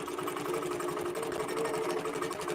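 A QBOT quilting machine stitches a row, a steady close mechanical hum with a fast regular needle rhythm running throughout, no voices.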